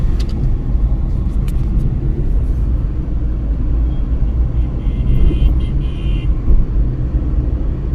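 Steady, loud engine and road rumble from inside a car driving through Delhi during the monsoon, continuous with no talk, a few faint higher clicks over the drone.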